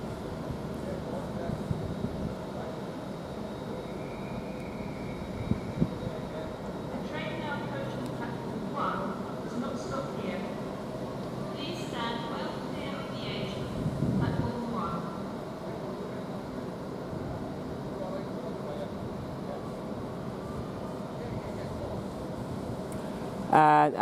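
A train creeping slowly at Durham railway station: a low steady rumble and hum with faint creaks and rattles, while a person talks over it for most of the stretch.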